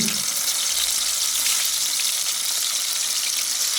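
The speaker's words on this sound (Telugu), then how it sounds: "చికెన్ ఆయిల్ వేడెక్కింది చికెన్ వేసేద్దాం" Chicken pieces fry in hot oil for a spicy village-style chicken fry cooked over a wood-fired stove, giving a loud, close, continuous hiss and sizzle with no talk.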